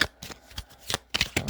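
Witch Tarot deck cards shuffled by hand in several quick riffling bursts with short pauses between, close and fairly soft, no talking.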